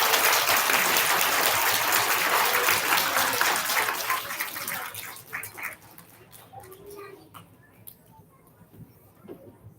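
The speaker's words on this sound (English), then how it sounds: "Let's give our UPK recipients a round of applause." An elementary school audience applauds student recognition recipients: dense, loud clapping for about four seconds, then thinning into scattered claps and fading into quiet room sound.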